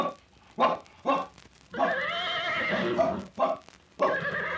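Horse whinnies from an outdoor 1955 Yukon adventure drama setting, several loud bursts in a row: short repeated neighs, then a long sustained whinny, then more short calls, fairly close and clear with no talk over them.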